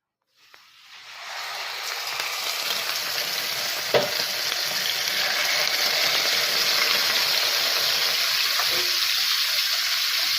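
Scotch fillet steaks hit a piping hot pan with a smidge of blended vegetable oil, bursting into a loud, steady sizzle that swells and holds close and continuous, with no talking.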